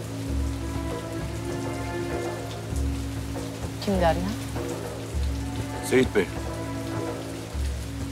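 Rain falls steadily, a soft continuous patter, while a few people talk briefly over it.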